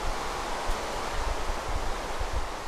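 Steady, dense hiss of Minecraft rainfall fills the whole stretch, even and unbroken, with a soft low rumble underneath and no voices.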